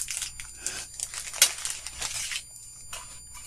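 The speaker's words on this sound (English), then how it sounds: "Yeah, I cut the bag." A plastic bag is cut open and crinkled while a craft subscription box is unboxed, giving close, irregular rustling and crackling bursts with one sharp snip-like crackle in the middle.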